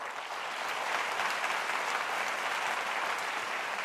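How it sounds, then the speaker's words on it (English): A large audience at the 2018 Bloomberg Philanthropies Awards for Global Tobacco Control breaks into dense, steady applause that holds at full strength for about four seconds, with no voices over it. "That deserves a round of applause."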